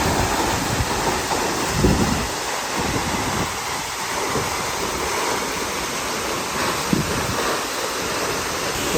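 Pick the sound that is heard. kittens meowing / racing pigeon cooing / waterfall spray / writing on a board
waterfall spray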